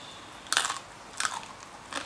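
Crispy Thai pork belly bitten up close: three sharp, crackly crunches spaced evenly, each followed by a short crumbly tail, with no talking.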